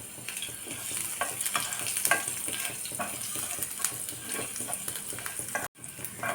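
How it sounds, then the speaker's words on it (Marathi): Garlic sautés in a pan for a dhaba-style palak paneer, a steady close sizzle with scraping stirs throughout, broken by a brief silent gap near the end. "लसूण घालूया आपण आणि छान आपल्याला परतून घ्यायचं आहे"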